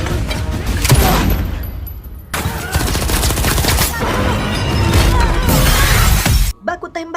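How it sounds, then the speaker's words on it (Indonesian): A loud action-movie shootout with dense bursts of gunfire and shattering impacts that run almost continuously, then break off into a few scattered bangs at the end, with narration over the top. "Baku tembak kembali terjadi."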